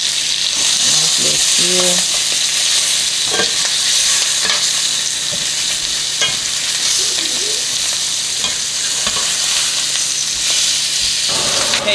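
Seared turkey wings sizzle loudly in a frying pan as they are flipped over, a constant hiss with knocks and scrapes of the turning, and a brief spoken word near the start.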